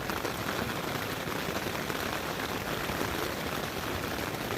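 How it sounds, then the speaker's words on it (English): Steady rain patters on a tent, a dense, even hiss of drops hitting the fabric that holds constant from start to finish with no voices, heard close from inside during a solo river trip on a wet morning. "Nothing like the sound of rain on a tent though"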